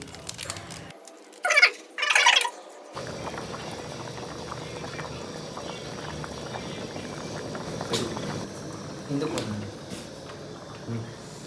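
Chicken sambar simmers in a pot, a steady close bubbling and gurgling that runs throughout, with a couple of brief louder clatters near the start.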